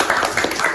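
Audience clapping at a podcast recording, a dense, steady patter of many hands lasting under a second.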